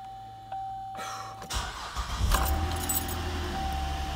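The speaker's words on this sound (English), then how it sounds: "Alright, right off the bat, the engine is running" Keys jingle in the ignition of a 2008 GMC Acadia, then the engine cranks and catches around the midpoint, settling into a steady, close idle rumble with no talking.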